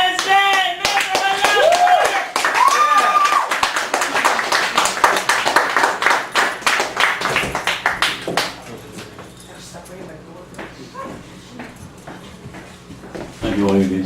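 Audience applause and cheering at a Chicago poetry open mic in a café gallery, a loud burst of clapping that swells and then fades, with voices calling out over it before a performer begins speaking.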